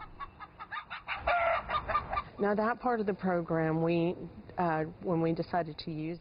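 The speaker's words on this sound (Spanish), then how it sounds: "En la granja también se crían pavos y pollos." Chickens cluck and crow on a farm that also raises turkeys, a steady run of close calls in uneven bursts, partly under a voice speaking.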